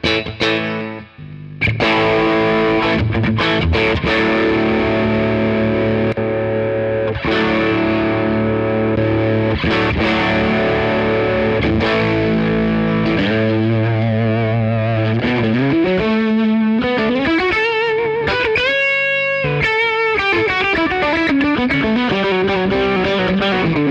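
Electric guitar played through a Tubescreamer overdrive pedal, loud and sustained, with driven chords and single-note bends and slides running continuously.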